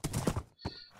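A Minecraft horse whinnies in a short, loud burst, followed by a clip-clop of hooves and a brief high tone, with no talking.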